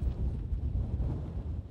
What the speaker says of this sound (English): give you an idea of what it's like living in winds that have been gusting above 50 miles an hour